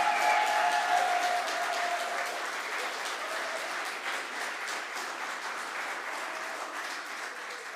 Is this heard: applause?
yes